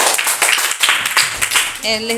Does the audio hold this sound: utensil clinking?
no